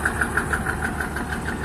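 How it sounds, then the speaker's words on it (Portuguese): A Massey Ferguson 95x tractor's diesel engine idles steadily nearby, a smooth, even knocking pulse repeating several times a second with no voices over it. "O barulhinho tá bonito o motor"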